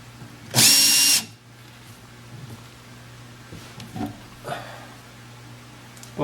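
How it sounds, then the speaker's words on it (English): One short burst of a power drill on low speed whining into wood for about half a second, followed by quiet with a few soft knocks and handling sounds. "I don't even have the drill set on high."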